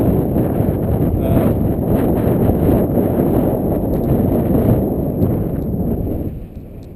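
Strong wind buffeting a head-mounted camera microphone outdoors, a loud, continuous low rumble that drops off sharply near the end.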